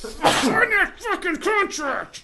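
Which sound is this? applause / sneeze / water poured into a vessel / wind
sneeze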